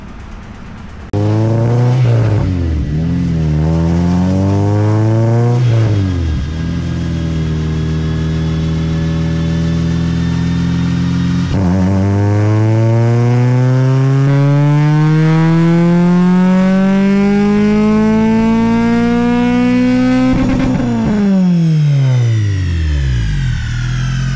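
A 2007 Honda Civic Si fitted with a JDM K24a engine roars on a dyno in several loud, close pulls, its pitch climbing steadily through each run before dropping back, with no voices.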